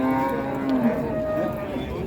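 Cattle bellow at a busy cattle market in Purwantoro, Wonogiri, where animals are sold for Qurban; a few close, drawn-out moos overlap against a steady crowd murmur.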